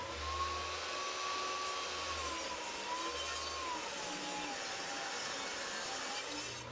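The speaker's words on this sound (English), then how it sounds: "We're going to rip some 1x3s a ½ inch thick" A saw ripping 1x3 wooden boards down to half an inch thick, a steady, loud whining drone that holds evenly throughout with no pauses or voices.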